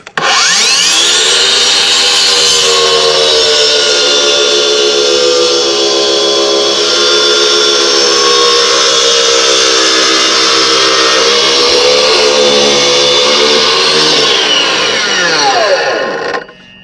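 A power tool cuts brick slips, a loud continuous grinding whine with shifting pitch that runs steadily for about sixteen seconds before cutting off.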